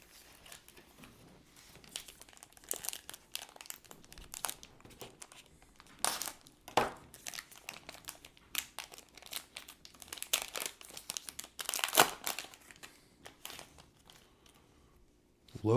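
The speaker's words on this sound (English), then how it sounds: "We'll rip these packs." Sports card packs torn open by hand, with bursts of foil crinkling and ripping near the microphone, irregular and repeated, loudest around the middle and later.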